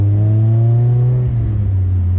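A 1999 Honda Civic four-door with a K24 engine swap and 3-inch exhaust revs close by, a loud steady drone that holds and then drops slightly in pitch as the revs ease off.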